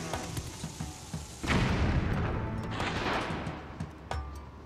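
A bomb from Legend of Zelda: Skyward Sword goes off with a sudden booming burst that rumbles and fades over a couple of seconds, followed by a smaller pop.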